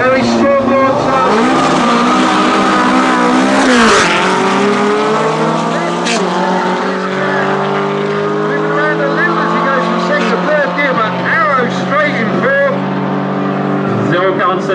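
Tuned air-cooled flat-four engine in an outlaw Volkswagen Beetle-style racer at a European Bug-In drag event, revving loud and close with rising and falling harmonic sweeps, a sharp rev spike near the start, then a sustained strong drone.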